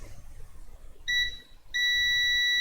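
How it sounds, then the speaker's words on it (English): A multimeter in continuity mode, probing an iPhone 7 logic board during short-circuit diagnosis, gives two sharp steady electronic beeps, a brief one and then a longer continuous tone, over faint background hum. "So I put it in beep mode again"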